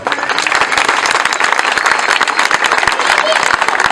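Wedding guests in Denizli, Turkey applaud strongly right after the couple are pronounced married, a loud, dense, sustained round of clapping from a close crowd.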